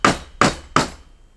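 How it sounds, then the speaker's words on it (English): Three evenly spaced, crisp hammer taps drive a waxed pin gently into Baltic birch plywood parts, close and clear, the last ringing out into a short quiet tail. "now I should be able to just hammer this down ever so gently"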